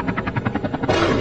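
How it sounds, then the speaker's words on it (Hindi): Rhythmic thumping of helicopter blades beats evenly, then swells into a louder, brighter roar as the helicopter passes overhead while coming down to land in a park. "वो देखो हेलीकॉप्टर उड़ रहा है।"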